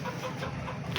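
Sick hens with open-mouth breathing, runny noses and wheezing give low, muffled clucks close by against a dense, steady background, with no voices.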